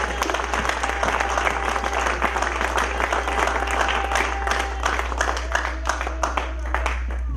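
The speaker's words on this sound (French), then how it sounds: "Est-ce que tu peux applaudir très fort le Seigneur?" A congregation applauds loudly and steadily for several seconds during a church sermon, dense continuous clapping filling the room over a low steady hum.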